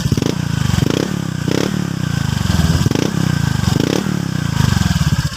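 A Honda Click v3 scooter fitted with a Hero racing pipe v4 exhaust idles and revs up close, its loud raspy exhaust pulsing in repeated throttle blips.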